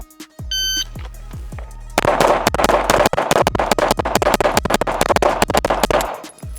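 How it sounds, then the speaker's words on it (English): A shot-timer beep followed by a fast string of pistol gunfire, 18 rounds from a Fowler Vanta 9 or Cardinal Arms G2P, loud sharp cracks in rapid, nearly even succession before a sudden stop. "So we'll shoot 18 rounds on this one."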